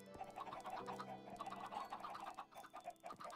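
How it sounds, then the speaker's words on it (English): Minecraft chickens cluck softly in quick, irregular bursts over a few seconds, faint and with no talking over them. "My chickens are doing well,"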